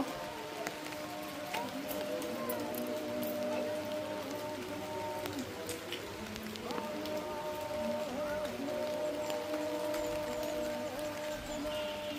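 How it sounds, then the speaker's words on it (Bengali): Rain falling steadily on a rooftop garden, a dense even patter of drops on leaves and surfaces, constant and fairly close, with no talk. "এর মধ্যে একদিন বৃষ্টি হয়ে গেল।"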